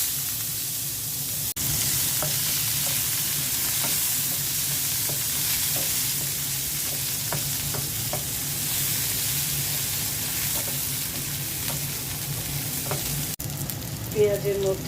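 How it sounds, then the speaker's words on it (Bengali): Onions dropped into hot oil already used for frying fish, a steady close sizzle with occasional stirring clicks and scrapes running continuously, no talk. "এখন আমি মাছ ভাজা তেলের মধ্যে পেঁয়াজ দিয়ে দিচ্ছি।"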